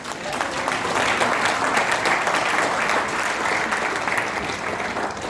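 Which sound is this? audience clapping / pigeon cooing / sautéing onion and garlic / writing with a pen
audience clapping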